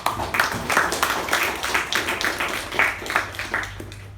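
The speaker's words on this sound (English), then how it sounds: "can we have a huge round of applause?" Applause at a meeting for someone who did a good job: a small group clapping in loose, uneven rhythm, fairly close, tapering off after about four seconds.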